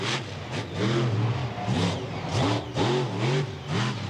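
A monster truck engine at a monster truck show revs in repeated rising surges, loud and close, with the roaring pitch climbing and falling several times over continuous crowd and arena noise.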